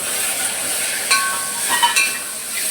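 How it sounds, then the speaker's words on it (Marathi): Dal tempering with onion and freshly added tomatoes hisses steadily in a pan, a close, even sizzle with a few light stirring scrapes. "मित्रांनो, ही आपली डाळची फोडणी आहे."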